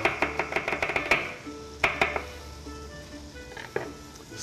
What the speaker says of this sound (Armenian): ընկույզն ենք կտրատում մանր